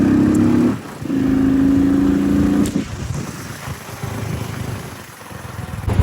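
A motorcycle engine runs steadily while the bike is ridden, with a droning tone that briefly dips before settling into a rougher, continuous rumble of road and engine noise close to the rider.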